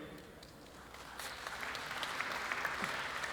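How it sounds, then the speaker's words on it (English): A conference audience at a startup roast comedy show claps to cast a vote. The applause is a broad, steady wash that swells from the midpoint and holds to the end. A voice can be heard faintly under it. "Applaud if you think that's Neelie."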